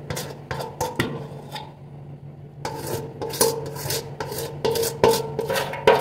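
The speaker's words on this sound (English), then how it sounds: "I'm scraping out every little bit of it." Cake batter being scraped out of a bowl: loud, close scraping strokes of a utensil against the bowl in uneven bursts, broken by a short quieter pause, with no talking.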